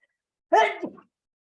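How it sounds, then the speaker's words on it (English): A single adult human sneeze, a sudden explosive burst that trails off into a short breathy tail, close and clear against otherwise silent surroundings. "Excuse me, I'm going to sneeze."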